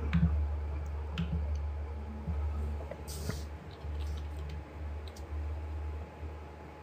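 Computer mouse clicks during editing work at a desk, a few faint, sparse ticks over a steady low hum of background noise.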